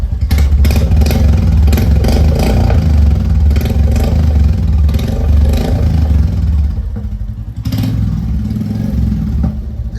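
A Stealth Black Royal Enfield Classic 350 with a short Punjab exhaust and rubber fitted on the silencer revs loud and close, with repeated throttle blips over a deep, thumping idle.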